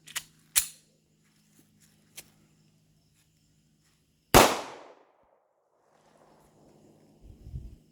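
A Springfield XDS polymer-framed pistol is fired with a limp wrist, giving one sharp, loud close shot amid a few smaller clicks and taps, then quiet rustling.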